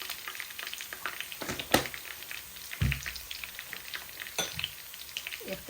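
Onion, bay leaves and panch phoron frying in a pan for Bengali daal, with faint crackles and soft sizzling plus a few sharp clinks and a low thump of utensils, fairly quiet throughout.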